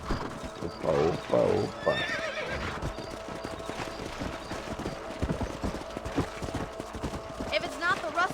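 Horse hooves clip-clopping in Red Dead Redemption, a steady rhythmic trot close by with a horse whinnying early on, under scattered talk and a brief exclamation.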